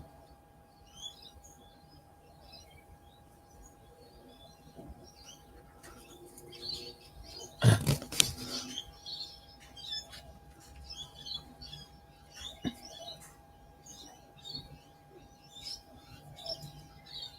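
A large bird, over a foot tall, calls in a backyard near a gum tree, with repeated chirping notes scattered through the stretch amid steady outdoor background and one louder burst partway through.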